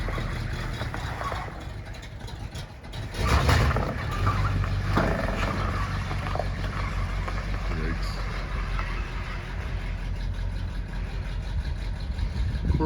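A 1978 Ford F150 Dentside pickup engine runs at a steady mid-pitched idle-like drone throughout, with a louder surge partway through and a voice talking over it.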